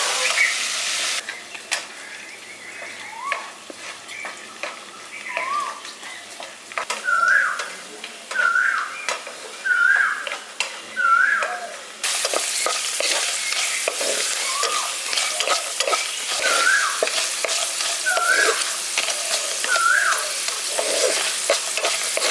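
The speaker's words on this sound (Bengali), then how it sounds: "এবার এগুলোকে দিয়ে দেওয়ার পর এগুলোকে আমি ভেজে নিচ্ছি" Curry leaves and spices fry in hot oil for village-style lemon rice, with a continuous sizzle and hiss punctuated by repeated scraping stirs of a spoon in the pan.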